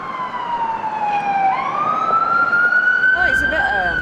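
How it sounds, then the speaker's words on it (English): An emergency vehicle siren wails through New York streets, rising and sweeping steadily and loud over a constant traffic roar, with a second siren pattern joining near the end. "there's a lot of sirens."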